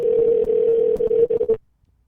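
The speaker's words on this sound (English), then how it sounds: "just waiting for him to pick the call up" A telephone line tone heard while a call is waiting for an answer, a loud steady electronic tone that runs for about a second and a half, breaks into short pulses, then cuts to silence.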